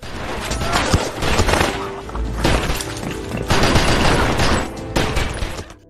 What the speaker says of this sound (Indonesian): Mason yang mengetahui hal tersebut, langsung menghujani peluru ke arah Briggs dan anak buahnya